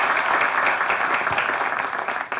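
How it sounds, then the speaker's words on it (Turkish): Studio audience applauding for the writers on a Turkish TV comedy show, a steady dense clapping that holds loud and then tapers slightly at the end. "Alkışlar yazarlarımıza gelsin."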